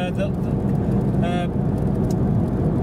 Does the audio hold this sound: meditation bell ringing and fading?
no